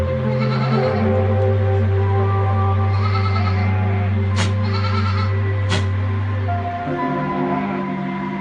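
Loud, sustained Damascus goat bleating with a low droning tone, broken by two sharp high cries near the end; close to the recorder.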